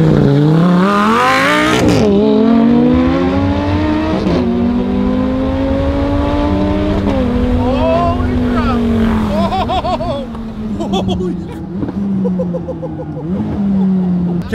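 A supercharged Lamborghini launches hard from a standing start, its engine revving loud and close and climbing through several gear shifts before easing off, with voices underneath.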